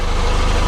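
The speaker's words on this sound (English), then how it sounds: "our engine just fired up" Sailboat engine idling just after a cold start, a loud, steady low rumble heard up close, continuous and even, with no talking.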